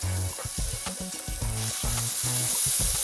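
Garlic and pepper fry in a pan with a steady, close sizzle while stirring, as a run of low musical notes plays underneath.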